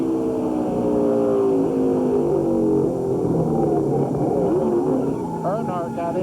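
In-car sound from a driver's NASCAR race car during the 1999 Dura Lube Kmart 300, a loud sustained engine drone with shifting pitch sweeps, overlaid by constant talking.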